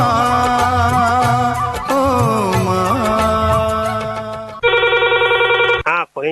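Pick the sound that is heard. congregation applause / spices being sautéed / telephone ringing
telephone ringing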